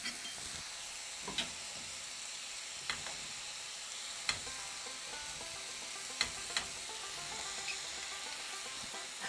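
Salted and peppered cabbage frying in a pan, with a continuous sizzle and hiss broken by several sharp scraping knocks as it is stirred, no talking.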